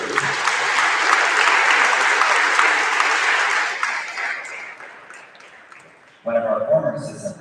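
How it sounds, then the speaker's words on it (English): Audience applause fills a middle school eighth-grade awards ceremony, a dense, steady clapping from many hands that fades over several seconds before a voice begins speaking. "so applause for her."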